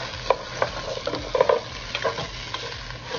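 Garlic frying in a pan for pork pata humba, a close sizzle with sharp, regular clicks of a spatula stirring and scraping.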